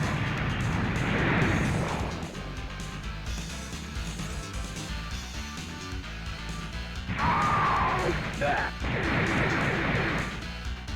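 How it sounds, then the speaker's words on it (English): Rocket launcher fire and a ship blowing apart in a video game: heavy booming blasts and crashing impacts, loud at the start and again near the end, over a dense game soundscape with music. "Rocket launcher."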